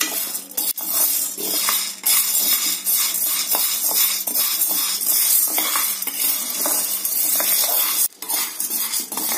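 Chana dal dry roasting in a pan for a dry-coconut chutney podi, stirred steadily with a utensil that scrapes and clinks against the metal, giving a continuous dry rattling hiss with repeated stirring strokes, close up and without talk.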